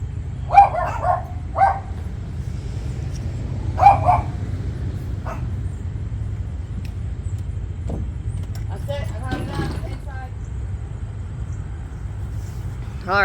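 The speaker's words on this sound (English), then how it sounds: "Of course my dogs are barking like maniacs." Several pet dogs bark at home, setting each other off. Short loud barks come in a few bursts near the start, then fade into a steady background hum while a person talks.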